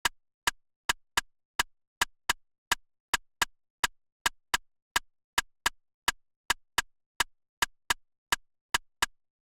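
Two drum hits, one panned slightly left and one slightly right, play together as a sharp, dry, rapid pattern of about twenty-six transients, often in quick pairs, with silence between hits and no talking.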